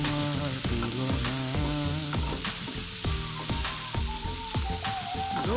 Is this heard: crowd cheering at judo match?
no